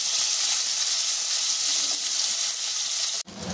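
Paneer sizzling steadily as it fries in a pan while being turned, a loud continuous hiss that cuts off abruptly near the end before resuming.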